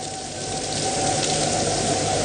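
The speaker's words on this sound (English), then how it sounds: "It is driving rain. It is pounding on the streets." Heavy driving rain pounds the streets of downtown Dallas during a North Texas tornado outbreak, forming a dense, steady, loud hiss with no break.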